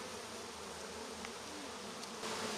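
Honey bees hum steadily around the top super of a beehive during an inspection, a close, continuous buzzing drone with no talk over it.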